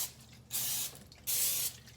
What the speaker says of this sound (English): I am going to spray them with a little bit of